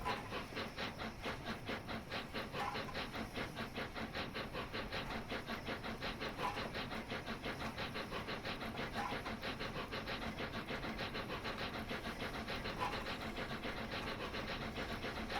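A steam locomotive accelerates on the London to Brighton line in a train simulator game, giving a steady, rapid, evenly spaced chuffing over continuous hiss at a constant moderate level throughout.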